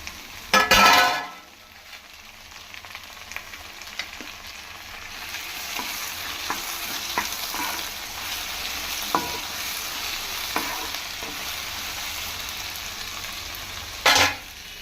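Onion and tomato sizzle steadily in a pan for an okra curry, with soft stirring and scraping taps throughout and louder bursts of stirring near the start and end.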